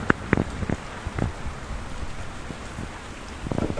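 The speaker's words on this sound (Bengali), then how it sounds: "আজকে টিপটিপে পড়তেছে হালকা হালকা বৃষ্টি পড়তেছে সাথে হালকা বাতাস" Light drizzle falls with a soft breeze after intense heat, giving a steady low patter of scattered drops against a faint wind hiss, with a few slightly louder drop taps near the start and end.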